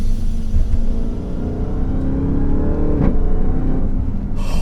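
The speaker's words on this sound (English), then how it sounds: "The whiner from the blower, listen to it." A Jeep Grand Cherokee Trackhawk SUV's supercharged engine revs loud and close, a deep steady rumble with a high blower whine layered on top, plus a brief sharp sound near the end.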